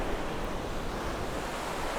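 Ocean surf on a beach at Cabo San Lucas, a steady, full wash of breaking waves and foam with wind mixed in, continuous and fairly close with no voices.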